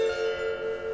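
A doorbell known as the Discordian rings with a sustained, slightly out-of-tune bell tone, its pitch wavering in slow pulses over a steady hum for about a second, loud and close.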